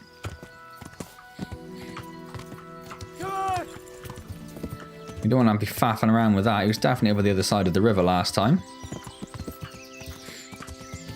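Horse hooves clip-clop on the ground in Kingdom Come: Deliverance, a scattered series of close thuds running throughout, with a horse's whinny and someone talking loudly over the middle section.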